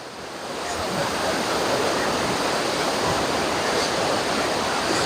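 Powerful rushing water at a dam in northern Sweden: a loud, constant roar of churning water with faint wind buffeting, no talking.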